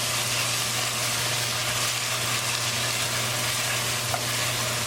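Onions and tomatoes fry in a pan in a steady, close sizzle that stays even throughout, with faint stirring under it and a low constant hum from the stove.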